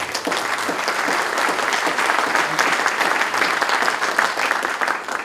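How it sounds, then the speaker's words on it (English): A conference audience gives a sustained round of applause, dense continuous clapping from many hands at an even, strong level throughout, with no voices over it. "deserve a big round of applause"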